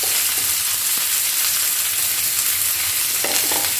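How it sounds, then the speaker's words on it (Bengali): Onions sizzle in hot oil right after going into the pan, a loud, close, continuous frying hiss with a few spatters, no talking. "তেল গরম হলে পেঁয়াজটা দিয়ে দিলাম"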